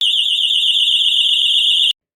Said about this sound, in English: It is a self-contained warning device equipped with dual warning sirens and a strobe light.